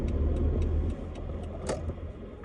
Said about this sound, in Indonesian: Ini masih halus banget bunyinya, mesinnya masih nyaman banget lah